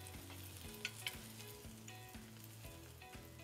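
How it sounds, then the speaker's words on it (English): Finely diced white onion, about two tablespoons, cooking in a pan before garlic goes in for a stuffed Italian artichoke dish, giving a steady soft sizzle with a few light stirring clicks, close and quiet, no talking. "We're gonna do two tablespoons of finely diced white onion. We're gonna let those cook a little bit"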